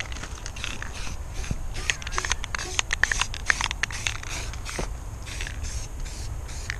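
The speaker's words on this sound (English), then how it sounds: "So Gavin's gonna be spray painting because this is what he does." Aerosol spray paint hissing onto a scooter deck in short bursts, the intermittent sprays separated by small clicks and scrapes, fairly faint against a low background hum.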